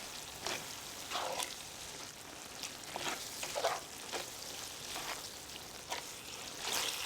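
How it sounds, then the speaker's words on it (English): Beef and broth simmering down in a pan on the stove, a soft continuous bubbling and sizzle with intermittent spoon stirs, fairly quiet and close, with no voices. "you're just going to cook this down until everything is nice and simmered together and the beef broth has reduced a bit."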